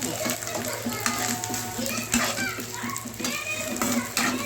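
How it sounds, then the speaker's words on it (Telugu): Onions, green chillies and ginger garlic paste sizzle steadily in a pan, the frying hiss running underneath someone talking and a voice nearby. "అల్లం వెల్లుల్లి పేస్ట్ వేసి అది కూడా వేగాక"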